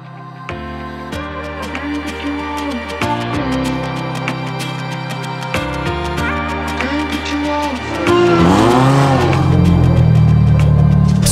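A Formula 4 race car on the Paul Ricard circuit with a driving-school program: its engine note climbs and drops through repeated gear shifts, steady and close, then swells to a louder, harsher roar toward the end, with no talk.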